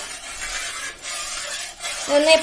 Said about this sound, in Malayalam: ഹൽവ ഉണ്ടാക്കുമ്പോൾ നമ്മൾ ഫുൾ ടൈം ഇളക്കിക്കൊണ്ടിരിക്കണം